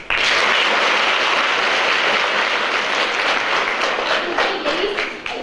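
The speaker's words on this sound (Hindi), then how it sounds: "जोरदार तालियां अपने लिए।" A school audience in Ghanche, Khaplu, breaks into loud, dense applause that starts abruptly and holds steady for several seconds before tapering slightly at the end.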